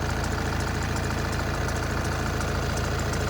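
A 2014 VW Passat TDI diesel idling, with a steady close rumble and an even knocking clatter that holds constant for the whole stretch.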